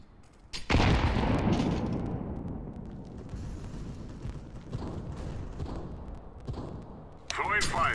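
Grenade blast in Counter-Strike: Global Offensive, a heavy booming explosion that rumbles and slowly fades, followed by scattered gunfire and game noise, with a fresh loud burst near the end.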